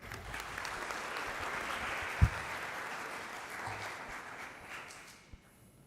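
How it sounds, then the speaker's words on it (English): An audience at the Young Indians Parliament in Mizoram applauds to welcome the chief guest to the podium. The clapping is steady and dense for several seconds, then tapers off near the end. "Let's have a warm round of applause."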